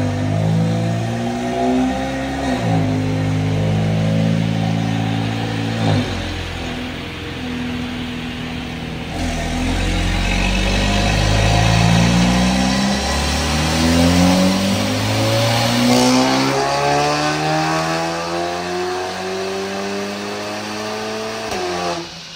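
A Gen 4 EA888 turbocharged four-cylinder revving hard on a dyno during a tuning pull, loud and close, climbing repeatedly through the gears with sharp pitch drops at each shift and a long sustained high-rev wail.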